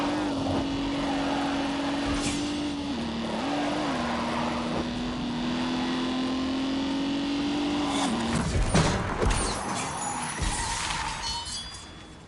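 A car engine revving hard at speed, a steady loud drone with a strong low hum and heavy vibration throughout, ending in a burst of rattling, clattering noise before it eases off.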